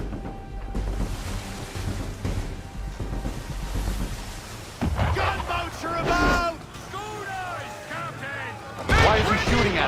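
Ship cannon fire at sea in Assassin's Creed III: heavy booming shots over rolling waves and creaking hull, with shouted voices and dialogue layered over the naval battle noise.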